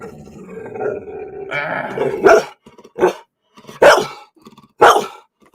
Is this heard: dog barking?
yes